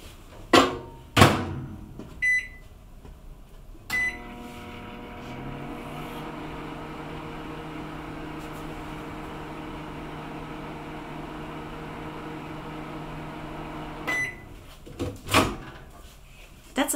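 A microwave oven hums steadily for about ten seconds while melting colored cocoa butter, framed by door clicks, a beep and handling knocks before and after.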